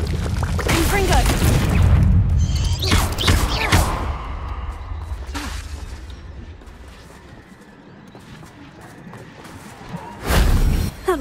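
Blasts from the Confringo fire spell in Hogwarts Legacy come as several booming, crackling explosions with whooshing bursts, one early run of heavy hits and a final loud boom near the end, under game sounds.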